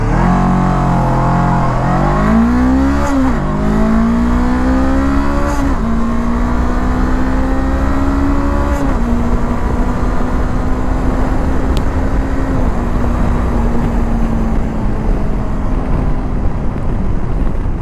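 A 2024 Honda NX 500 motorcycle with the CBR 500R engine pulls hard on the road, its engine note climbing through several rising revs and gear shifts, then holding a steady loud drone.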